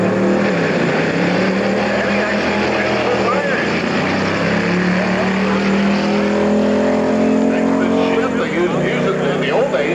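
A short-wheelbase hot rod with a 307 cubic inch flathead engine makes a drag run at a hot rod reunion in Bakersfield, California, its loud engine roar rising and shifting through gears while an announcer talks over it.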